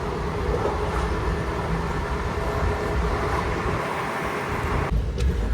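The Repalle Express (train 17645) pulls into Bibinagar railway station with a steady, loud rumble and rattle of rail cars that stays constant throughout, with no voices.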